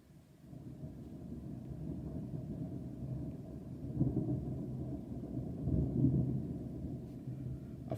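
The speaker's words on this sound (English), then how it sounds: "This thunderstorm's better than yesterday's one." Low thunder rolls on continuously during a thunderstorm, a deep distant rumble swelling in two stronger peaks, heard alone without talk.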